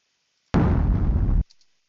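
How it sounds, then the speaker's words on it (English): A designed explosion effect built from blended layers for a sound track: one sudden, loud, full-bodied boom that holds for about a second, then cuts off with a brief faint tail. "So we had an explosion."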